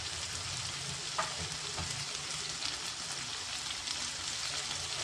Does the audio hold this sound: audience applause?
no